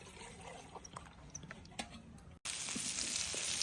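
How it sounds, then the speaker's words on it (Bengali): Kalibaus fish frying in an old, broken kadai: soft scattered crackles and pops, then after a brief cut a loud, steady, close sizzle of hot oil fills the rest. "খুব সুন্দরভাবে মাছগুলো হচ্ছে ভাজি করে দিচ্ছি"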